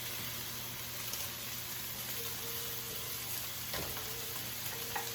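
Kale and eggplant fry together in a pan, giving a steady, dense sizzle that continues without a break and is heard alone, without speech.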